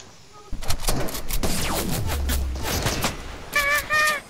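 Bursts of gunfire from a squad-mode battle royale shooter, mixed with game effects and rising tones, with a player talking over the shots throughout.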